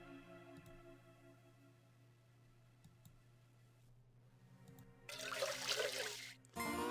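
Water poured into a machine in the point-and-click game Woodruff and the Schnibble: a quiet hum with faint clicks, then a loud gushing splash for about a second and a half near the end.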